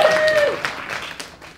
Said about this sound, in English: So, round of applause for Lewis.